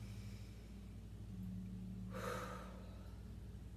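A single deep inhalation during a guided wrist and forearm stretching exercise, breathed in gently over steady low background hum, swelling for about a second near the middle.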